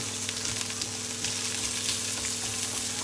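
Prawns frying in chili oil give a steady, dense sizzle with faint crackles throughout, close and constant with no talking.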